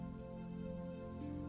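Steady rain falling, a continuous even patter with no breaks, mixed with a sustained low tonal drone.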